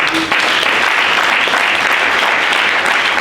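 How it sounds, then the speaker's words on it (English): At an ITWeb security summit ideathon, a large conference audience breaks into loud, dense applause that holds steady and continuous throughout. "Let's give one more round of applause."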